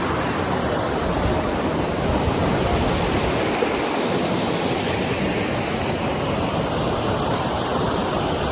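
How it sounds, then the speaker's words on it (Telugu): A river at Edupayala, split into seven streams and swollen after heavy rains, roars with a loud, dense, unbroken rush of water close by, with no talking. "ఒక నది ఏడుపాయలుగా విడిపోయింది"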